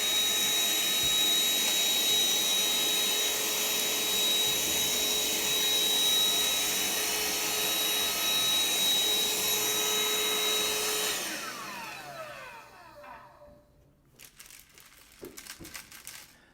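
Ryobi ONE+ 18V lithium-ion cordless hand vacuum whines loudly and steadily while sucking up Honey Nut Cheerios with crunchy rattling, then winds down and stops, followed by faint handling clicks.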